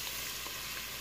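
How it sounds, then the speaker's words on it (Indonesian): Onions sauté in two tablespoons of oil in a pot for a Middle Eastern chicken rice dish, giving a steady, close, even sizzle with no talking. "Sekarang mau numis dulu ini bawangnya."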